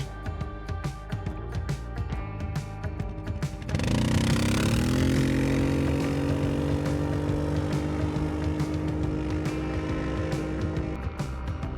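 Quad bike engine idles with rapid putters, then revs up sharply into a loud sustained roar that holds steady for several seconds.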